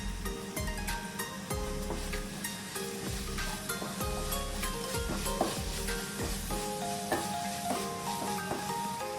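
Kadala curry, a Kerala-style chickpea dish, is stirred in a pan with a continuous close sizzle and repeated scraping, knocking strokes of a spoon against the pan throughout.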